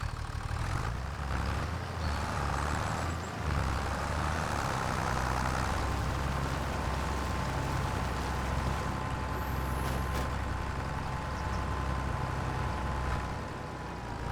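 Tractor engine in Farming Simulator 25, a steady low idling rumble that holds evenly throughout with a faint higher whine above it and no talking.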